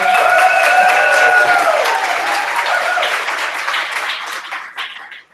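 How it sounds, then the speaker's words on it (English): An audience at an educators' convening gives a round of applause for a woman doing graphic organizing, a dense roar of clapping with some whoops over it, loud at first and tapering off toward the end. "We also need to give a huge round of applause for this amazing woman, Nevada Lane"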